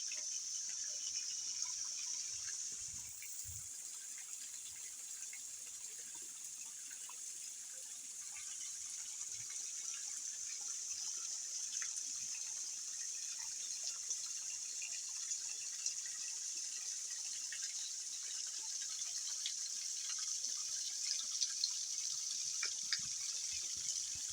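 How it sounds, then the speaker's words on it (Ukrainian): A small garden stream trickles and gurgles steadily past a stone footbridge on a rustic homestead, a soft, even wash of flowing water that continues without pause and with no voices. "Ось такий мій струмочок"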